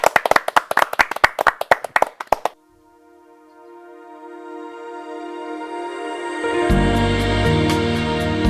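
A small audience claps briskly during a Korean music variety show, a short burst of loud, close hand claps that stops abruptly, after which sustained tones and music swell up in its place.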